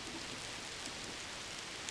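Steady rain falls outdoors as a continuous broadband hiss, fairly close and even in level, with soft patter throughout and no voices.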